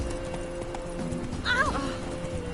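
The horse Roach in The Witcher game trots with soft rhythmic hoof clip-clops and gives a brief whinny midway, all under a steady low background with game music.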